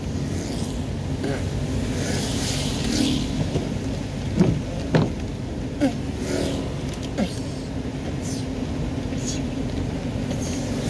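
Steady rain hisses on a wet road while a car drives through it at night, with continuous tyre and road noise, occasional louder splashes and voices talking over it.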